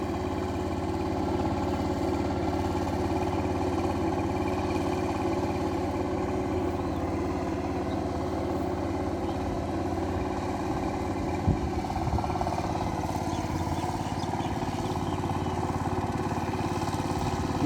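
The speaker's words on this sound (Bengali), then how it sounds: "আঠাশ ব্লেড পাওয়ার টিলার দিয়ে প্রথমে এক চাষ দিছি" A 28-blade power tiller ploughing a field on its second pass, its engine droning in a steady, loud, continuous mechanical hum close by, with faint clatter and no talking.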